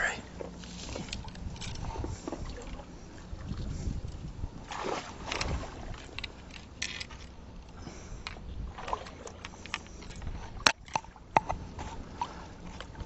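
Wind gusting around a kayak during bass fishing on open water, a fluctuating rush with buffeting and occasional sharp knocks and splashes, fairly close to the microphone with no clear talk.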